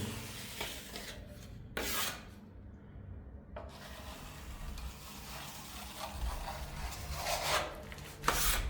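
A plastering knife drags across a wall, smoothing satin plaster in close, rasping scrapes with short pauses between strokes. One stroke near the end is louder and sharper than the rest.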